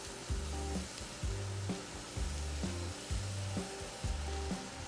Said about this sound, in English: the chorizo, onions, and jalapenos have been cooking for about 10 minutes